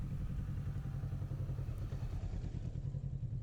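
Motorcycle ridden slowly through tight turns around cones, its engine a steady close low chugging rumble with slight throttle changes.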